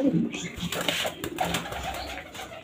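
Pet pigeon cooing in a home setting beside new cages, soft repeated coos close by, mixed with some background noise and light talk.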